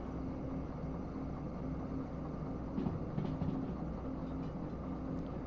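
A train runs on rails in the Derail Valley game, picking up speed downhill: a faint, steady low rumble with a brief burst of metallic clatter partway through.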